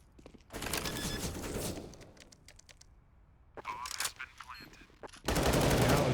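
Galil rifle fire in a professional Counter-Strike: Global Offensive match on the Overpass map, with sustained automatic bursts, sharp scattered single shots and a loud closing burst, and a commentator talking underneath.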